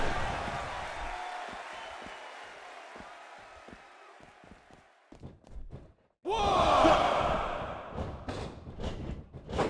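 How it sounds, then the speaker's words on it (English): A large video game wrestling crowd in Tokyo (WWE 2K18) roars loudly after a quieter stretch of scattered thuds and murmur, the cheering swelling suddenly and staying strong. "just listen to this Tokyo crowd."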